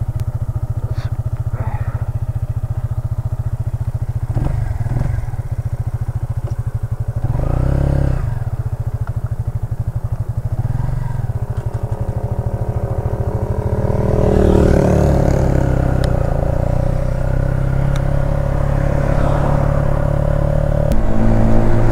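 A Benelli Motobi 200 Evo, a 200cc petrol cruiser motorcycle, runs steadily while being ridden, its engine humming close and loud with a few rises in revs and some clatter, without speech.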